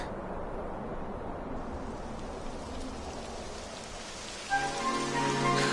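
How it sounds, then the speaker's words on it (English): Video game rain in Kingdom Hearts falls as a steady, hissing downpour pattering on surfaces. Near the end a sustained musical tone enters over the rain. "It would have to go and start raining, wouldn't it?"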